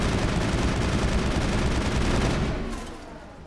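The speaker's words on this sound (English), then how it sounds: "And now we're shooting crates just cause we can." Dense automatic gunfire in the video game Mass Effect while shooting at crates, a loud continuous rattling burst that thins out and fades near the end.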